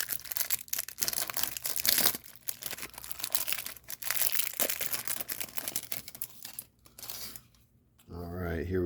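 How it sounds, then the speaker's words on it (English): A cellophane wrapper crinkles and tears while a Star Wars Journey to the Last Jedi trading card pack is opened, producing close, irregular bursts of crackling with brief pauses, ending in a moment of voice. "they come in another pack. Just in case you were missing that cellophane"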